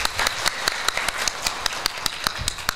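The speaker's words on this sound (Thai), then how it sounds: "ซึ่งก็คือคุณสมิงยิ้มสิรินะครับขอเสียงปรบมือด้วยครับ" Scattered audience clapping for a speaker at a public finance seminar, a thin, uneven patter of individual claps with distinct separate hits, fairly close and moderately loud.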